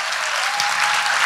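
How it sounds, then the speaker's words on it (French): A crowd at a screenplay synopsis pitch competition gives a short, dense round of applause, steady and fairly loud throughout, with no talk. "Alors comme c'est la première, on applaudit un petit peu plus fort"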